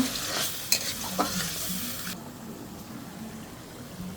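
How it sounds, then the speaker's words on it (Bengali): Ground spice paste fries in oil and is stirred with a few scraping strokes over a soft sizzle; the stirring stops halfway and only a quiet, steady sizzle remains. "সব বাটা মশলাগুলো আমার তেলে ভালো করে ভাজানো হয়ে গেছে"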